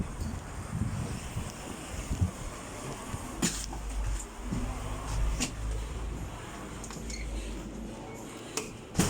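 Steady rushing wind buffets the microphone outdoors in Yakutsk, Siberia, a constant low roar with occasional sharper gusts and brief clicks.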